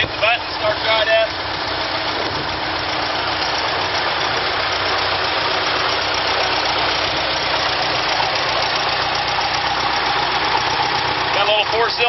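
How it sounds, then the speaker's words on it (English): New Holland L425 skid steer with a small 4-cylinder gas engine idling, a steady, loud, slightly rough mechanical drone running continuously. "Got a little 4-cylinder gas motor in it."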